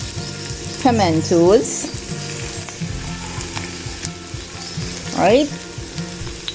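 Ginger, garlic and onion hitting hot oil for a fish curry, a loud continuous sizzle with stirring scrapes, while a person speaks briefly over the frying.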